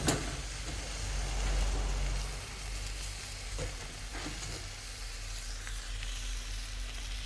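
Vegetables stir-frying in a pan with a loud, continuous sizzle, a heavy low rumble near the start and scattered scrapes and clinks of stirring throughout.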